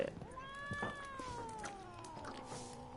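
A cat meows in The Witcher 3 video game: one long, drawn-out, wavering meow that holds for most of the moment, moderately loud and close, with faint background game ambience.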